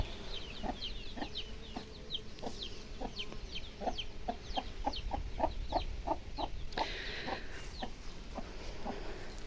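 Soft, rapid clucks from a hen repeat in short bursts, with faint high peeping of her chicks over quiet outdoor background.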